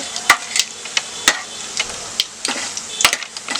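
Whole spices from a spice box crackle and sizzle in hot oil while being stirred for a sweet pumpkin curry, with sharp close metallic clinks and taps of the spoon against the pan.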